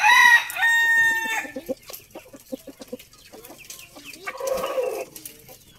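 A rooster crows loudly and close by, then several chickens cluck in short, uneven bursts that fade to quieter clucking near the nest.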